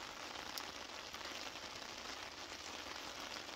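Steady rain patters on a camp tarp, a dense, even hiss of drops with no voices, continuous and fairly soft throughout.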